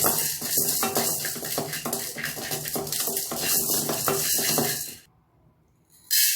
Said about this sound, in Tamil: கடலைப்பருப்பு அதை லேசாக